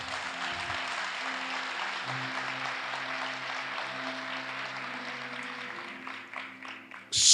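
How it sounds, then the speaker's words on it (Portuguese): Audience applause at a Portuguese-language church sermon: a steady, dense wash of clapping over a low sustained musical tone, thinning out toward the end before a sudden loud burst. "Aplauda."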